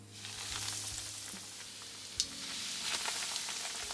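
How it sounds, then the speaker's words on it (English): Japanese potato croquettes (korokke) deep frying in hot oil, a steady bright crackling sizzle that runs the whole time with a few small pops, close and fairly loud, no voices. "I've deep fried them for about 6 to 7 minutes."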